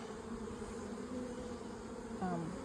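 Honey bees at a hive in a busy apiary, a steady droning buzz that fills the whole stretch close up, with a brief louder swell of buzzing near the end.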